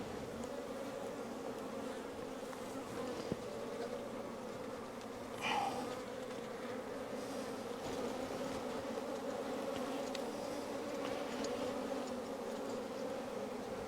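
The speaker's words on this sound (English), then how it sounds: "having all these bees flying around your head" Honeybees swarm around a very large hive on a hot summer day on a Portuguese farm, a dense, steady droning hum close by, with one louder bee buzzing past the ear midway and no talking.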